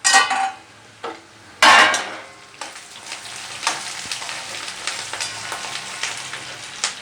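Onions stirred and fried in a pan for gongura curry, with a couple of loud scraping clatters early on, then a steady crackling sizzle and light utensil taps through the rest, no talking.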